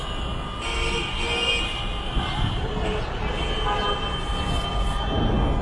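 An old steam train rolls along iron rails on iron wheels, a steady loud rumble and clatter of the carriages that fills the whole stretch, with brief higher whistling tones rising above it.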